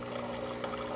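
A Breville Barista Pro espresso machine runs descaling solution out of its hot water nozzle, giving a steady, quiet hiss of flowing liquid with no talk over it.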